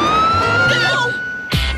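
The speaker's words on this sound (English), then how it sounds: "No, but there's a police car" Police car siren in a cartoon, a steady wailing tone held loud across the clip before a sudden sharp burst near the end.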